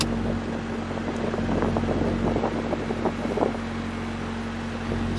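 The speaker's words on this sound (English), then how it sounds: "you can feel this speed of the blower motor went lower" Blower motor of a 1995 Honda Civic EG's air conditioning running at a reduced speed, a steady close whoosh of moving air with a constant low hum underneath and no talking.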